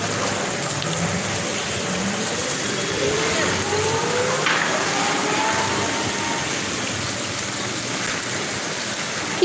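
Light drizzling rain falls steadily outdoors along a roadside, a constant soft hiss with traffic noise and a distant murmur mixed in.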